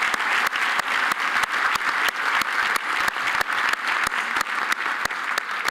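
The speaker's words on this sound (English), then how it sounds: "A round of applause, please." Audience applause fills a college commencement ceremony for an honorary degree recipient and commencement speaker, a steady, dense roar of many hands clapping that holds evenly for several seconds with no voices over it.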